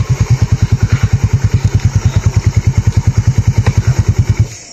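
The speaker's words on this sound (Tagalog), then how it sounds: "Nanandring motor ni Mikoy" A motorcycle engine runs close by and loud, its steady chugging idle pulsing at a rapid even beat for several seconds before cutting out near the end.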